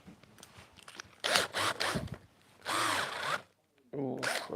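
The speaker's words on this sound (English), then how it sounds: "I'm going to just do it with a battery drill" A cordless battery drill with an extra-long bit bores into wood in several loud bursts of whirring and grinding, separated by short pauses and low handling noise, close to the listener.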